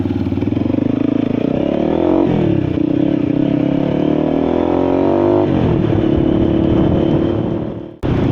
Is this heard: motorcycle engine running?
yes